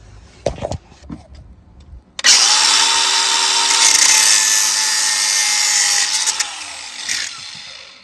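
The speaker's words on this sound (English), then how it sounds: "just gonna use my angle grinder to cut. I got a cut off disc on there" An angle grinder fitted with a cut-off disc slices through a steel power steering line on a Ford F350 pickup, a loud, steady high-pitched whine running for about six seconds after a few brief knocks.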